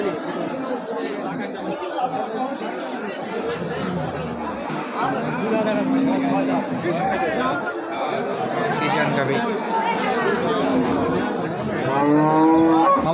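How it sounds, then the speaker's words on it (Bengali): Friesian cows low at a busy rural cattle market. Their mooing comes through a dense crowd chatter, with one clearer call near the end. "সেগুলো ফেজান গরু মার্শাল্লাহ"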